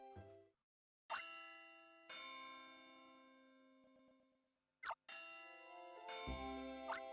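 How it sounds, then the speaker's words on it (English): A school bell chimes in Pokémon Ranger: Shadows of Almia, sounding as bright, sustained video-game bell tones in several separate rings with short gaps, loud and clean with no talk. "Here goes the bell."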